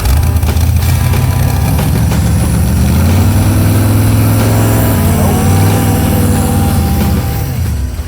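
A Corvette kart engine with a sticky throttle revs up and holds a high idle, loud and close, its pitch rising and falling before settling lower near the end; no speech is heard.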